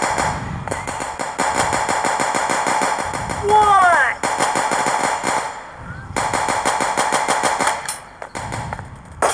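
Rapid automatic gunfire from a mobile video game bursts in repeated strings of loud shots, with brief pauses and a rising electronic chime between volleys.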